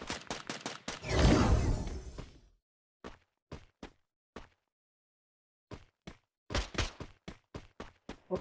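Gunfire in the Free Fire video game: a rapid burst of shots, a heavy boom with a long rumbling tail, then scattered single shots and short volleys separated by silence, fairly close with no voices.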